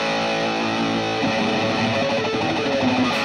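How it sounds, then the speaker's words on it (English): Electric guitar with distortion played close and loud, a sustained buzzing chord that shifts into picked notes partway through, with no voices over it. "Let's turn some distortion on and play some other tunes"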